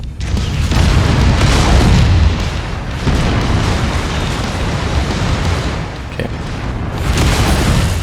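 Heavy booming explosions and weapon fire roll on as a mech blasts a building apart in MechWarrior 5: Mercenaries, a loud, dense, sustained rumble with a brief spoken word near the start.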